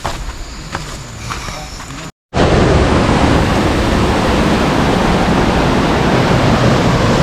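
A clear river flowing from Taytay Falls rushes loudly and steadily as a broad hiss of water. A quieter stretch is followed by a brief dropout, then the full roar resumes.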